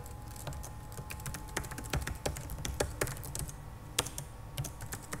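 Quick, steady typing on a computer keyboard while entering a website address, with dense runs of light key clicks close up and no voices.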